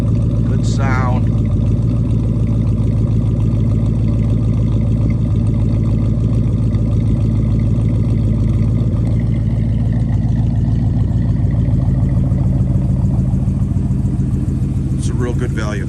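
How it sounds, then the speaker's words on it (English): A 1965 Plymouth Barracuda idles through its dual exhaust with a steady, deep rumble close by, running continuously beneath someone talking. "Nice dual exhaust, good sound."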